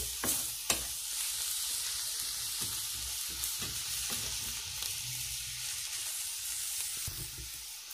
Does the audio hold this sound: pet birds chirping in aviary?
no